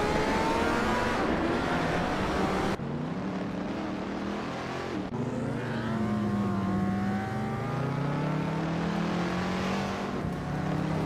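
Classic muscle cars, including a 1965 Pontiac GTO and a 1967 Chevrolet Corvette C2 Stingray, race in a video game, their engines droning and shifting pitch continuously at steady loudness, with revving swells and no talk.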